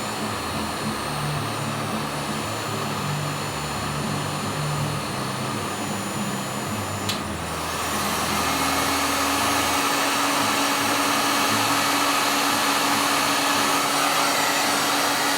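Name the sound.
hot air heating a surface mount transistor to desolder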